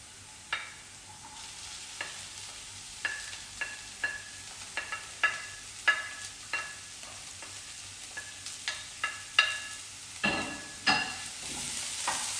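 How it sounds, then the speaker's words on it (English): Onions fry alongside corned beef in a pan, giving a soft steady sizzle under a series of sharp spatula clicks and scrapes spaced about a second apart; no voices. "now I'm gonna add the onions to it"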